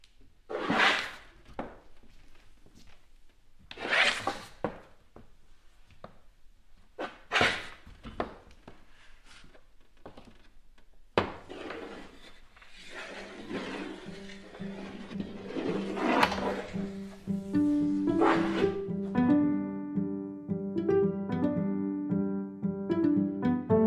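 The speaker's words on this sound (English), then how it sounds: "Maria also explored more softer sounds by using acrobatics while dancing" Soft thuds, brushes and rustles from acrobatic dance moves on a stage, several distinct bumps at first, followed by a denser, busier stretch of layered movement sounds with a tonal, melodic ringing entering toward the end.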